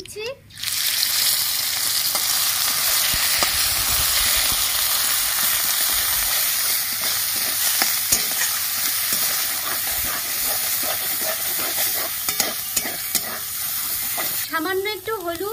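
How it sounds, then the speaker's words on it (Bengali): Black cumin seeds and a ground paste of beans and poppy seed sizzle loudly in hot oil, a dense continuous frying hiss with scattered stirring clatter, a brief splutter as they first hit the pan. "তেল গরম হয়ে গেছে, কালো জিরে ফোড়ন দিয়ে দিচ্ছি, বেটে রাখা বিনস আর পোস্ত দিয়ে দিচ্ছি"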